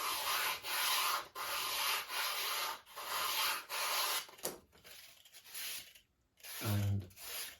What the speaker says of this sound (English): Sorry about the sanding noise.